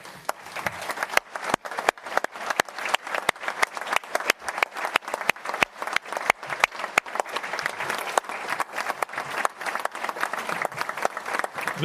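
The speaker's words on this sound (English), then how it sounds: "everybody in the Cancer Center stand up and take a round of applause" An audience at a cancer center event applauds warmly, with many overlapping hand claps in a steady, continuous ovation with no speech.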